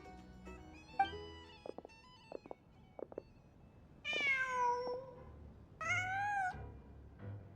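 A cat in the Genshin Impact game gives two clear, drawn-out meows, each rising and falling, set apart by quiet stretches with soft chimes and taps in the background.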